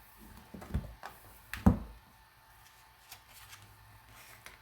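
A deck of tarot cards being shuffled by hand gives soft, faint rustles and a few sharper taps and slaps, close up in a quiet room.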